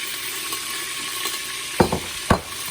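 A pork chop frying in a pan, a faint steady sizzle with a few sharp clinks and knocks as it is turned over, no voices.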